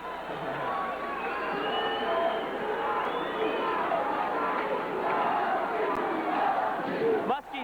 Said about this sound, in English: I like to hear this crowd again.